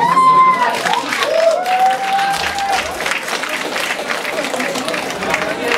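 Audience applause at a school talent show in a gymnasium: loud, dense clapping from a crowd, steady throughout, with whistles and cheers rising above it early on.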